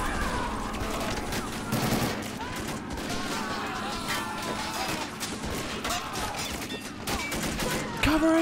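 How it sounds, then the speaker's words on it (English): Dense, continuous battle gunfire from Japanese machine guns during an amphibious marine landing on a castle in a video game, with steady rattling bursts and crashing impacts throughout, loud and close, with a mix of distant and near fire. "A lot of Japanese machine guns just everywhere"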